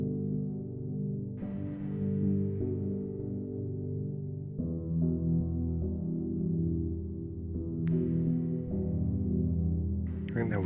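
Piano playing a slow left-hand pattern of root, fifth, root, third and fifth, low notes rolling evenly with occasional higher chords, close and alone.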